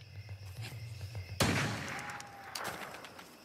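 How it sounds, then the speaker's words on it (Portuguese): A single loud rifle shot cracks abruptly, then echoes and rolls away into the distance. "É tiro de ajuste."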